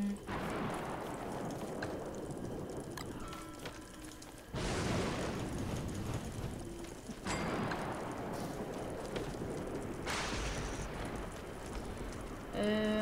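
Rain falling steadily during a storm, a dense continuous hiss of drops with sudden louder surges and a few heavier bursts, close and unbroken.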